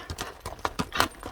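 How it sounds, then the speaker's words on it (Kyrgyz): A horse's hooves clip-clopping as the reins are shaken: quick, close, distinct hoofbeats in an uneven trotting rhythm over a short stretch. "Атты өзүңүздөр көрүп тургандай эле тизгинди какканда"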